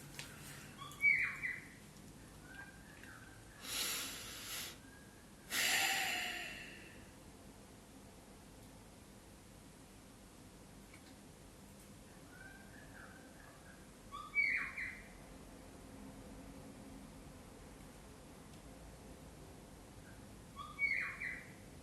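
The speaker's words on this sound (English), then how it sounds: "The birds, can you hear the birds?" A few short bird calls and chirps come and go outdoors, scattered and fairly faint against quiet background, with a couple of brief louder bursts.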